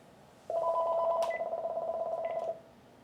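A telephone gives one steady, loud electronic ring tone lasting about two seconds before cutting off, alone without talk.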